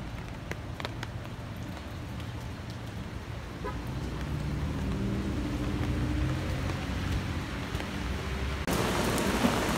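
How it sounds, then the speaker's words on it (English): Steady rain patters on surfaces against a constant low hum, with a faint car horn toot early on and a burst of louder hiss near the end. "I told you it was gonna rain today."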